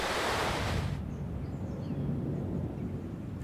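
Ocean surf breaking on a rocky limestone coast of Aruba with strong currents, a loud, continuous wash of waves with wind rushing over the microphone, heard close and with no voices.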